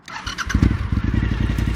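A 2003 Suzuki SV1000 V-twin motorcycle starting up: a brief starter whir, then the engine catches into a loud, close, lumpy, pulsing idle.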